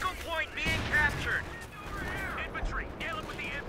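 Artillery fire in the real-time strategy game Company of Heroes 2: a heavy volley of blasts and gunfire crackle under a caster commentating, with brief whistles and rumbling impacts.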